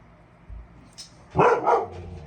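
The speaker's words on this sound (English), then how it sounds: "Maddie, Maddie, no barking in the house, please." A dog gives a couple of close, sharp barks near the end, preceded by faint shuffling.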